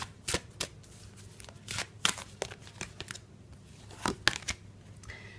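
Tarot cards being shuffled by hand, a quick series of crisp riffling and slapping bursts at close range, irregular in rhythm, with no voice.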